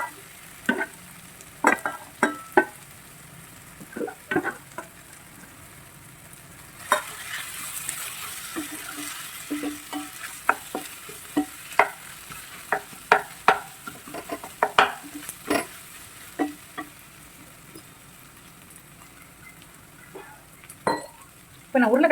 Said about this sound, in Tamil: இதில் வந்து இப்போ நான் வந்து உருளைக்கிழங்கு சேர்த்துக்கிறேன்